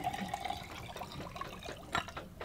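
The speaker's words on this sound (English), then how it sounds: "We're adding sterilized water, which I boiled last night." Boiled, sterilized water is poured into a jug for making yogurt on a sailboat, a faint, continuous liquid trickle and splash with small gurgles, quiet and close.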